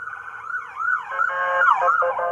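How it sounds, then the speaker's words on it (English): An ambulance siren wails along a city street during a No Kings protest, its pitch sweeping up and down in a fast yelp pattern, fairly close and clear with no voices over it. "you hear the ambulance around here"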